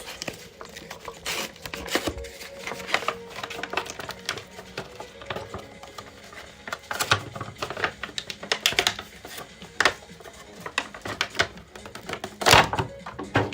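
Packaging is torn open around an F1 scale model car, a 1980 Carlos Reutemann piece, with dense crackling, papery rips and scattered sharp snaps close by for several seconds.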